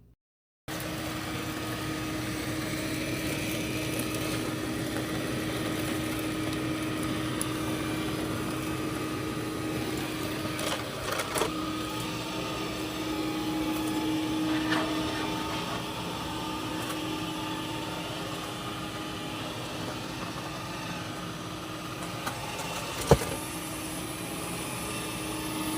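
A Dreame L60 Ultra robot vacuum mops a kitchen floor beside the stove, in the toe-kick and under the dishwasher, giving a steady close motor whir and hum with a few small knocks and one sharp bump near the end.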